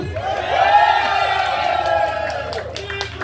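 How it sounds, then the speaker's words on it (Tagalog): A live crowd at a band gig on a street in Sampaloc, Manila, roaring with cheers and whoops, a loud swelling wave of shouting voices that peaks early and then trails off with some scattered clapping. "Ang pinakamahalaga yung palakpak nyo na may sigaw!"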